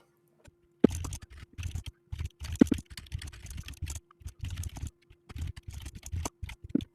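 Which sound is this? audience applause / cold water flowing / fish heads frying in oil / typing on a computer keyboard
typing on a computer keyboard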